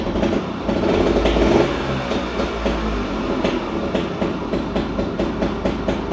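A 1963 KTM Ponny 2 moped engine idles steadily with a busy, rattling mechanical chatter. The running is continuous and fairly loud, with a brief swell early on.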